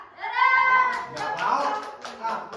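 A class of children doing the Tepuk Semangat clapping chant, young voices chanting together in a sing-song rhythm punctuated by bursts of hand claps, close and lively.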